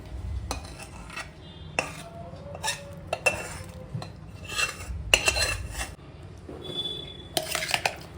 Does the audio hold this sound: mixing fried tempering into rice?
yes